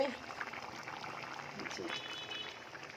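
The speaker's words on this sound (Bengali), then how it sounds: "এই যে আমার তরকারিটা টকবক করে ফুটছে" Fish and potato curry boils in a pot on a home kitchen stove, giving a faint, steady bubbling simmer heard close by under quiet talk.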